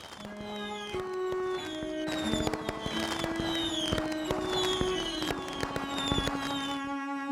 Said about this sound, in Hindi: पटाखे बज रहे हैं।